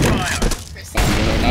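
A grenade and a flashbang go off in Counter-Strike: GO competitive play: a loud, near blast opens, then a brief dip in sound before a second heavy burst that rings on to the end.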